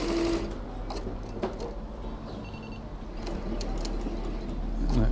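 A Tajima embroidery machine stitching, a steady mechanical whir with a busy rhythmic patter of needle strokes and brief higher clicks, fairly close and continuous with no talk.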